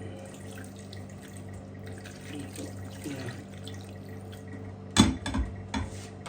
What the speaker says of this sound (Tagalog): Tapos ang ginamit ko pong tubig dito, hindi basta-basta, mineral water.